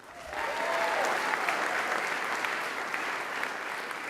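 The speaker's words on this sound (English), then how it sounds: "If you'd hold your applause" Audience at a university announcement event breaks into applause that swells quickly and holds as a full, steady clapping from a large crowd, with a few brief sharper claps standing out.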